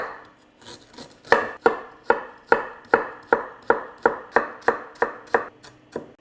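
A knife chops fresh ginger into thin strips on a cutting board, a quick even series of about a dozen crisp, close knocks with no talking.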